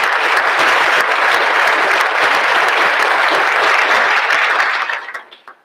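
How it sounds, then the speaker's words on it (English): Loud, sustained audience applause fills a hall at a Montgomery County, Ohio State of the County event, steady for about five seconds before tapering off into silence. "Please give a round of applause for them."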